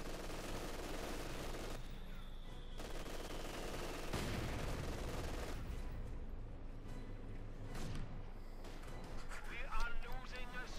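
Bursts of MG42 machine gun fire and other battle gunfire in Company of Heroes 2, dense and continuous, with a voice talking over the din.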